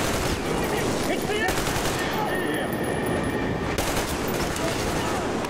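Gunfire in the Metro Exodus video game: loud, dense volleys of rapid shots pour out almost without pause from start to finish.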